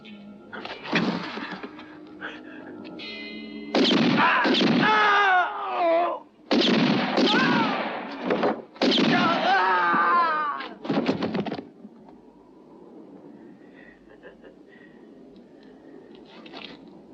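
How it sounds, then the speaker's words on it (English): Loud gunshots and harsh blasts in a 1967 western film, several bursts over about eight seconds, then a quieter stretch of faint background sound. "I shot 6 times, too."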